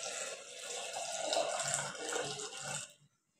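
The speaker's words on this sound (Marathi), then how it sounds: "पाणी टाकायचं" Water poured from a vessel into a pot of sambar made with tomato, red pumpkin and brinjal, a steady close splashing stream lasting nearly three seconds before cutting off into silence.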